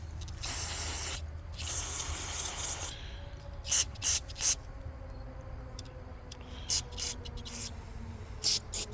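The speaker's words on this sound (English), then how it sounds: "We're just going to spray everything down." An aerosol can of O'Reilly's carbon choke cleaner hisses in long bursts onto engine parts, followed by several short, sharp spray puffs spaced irregularly, close and loud.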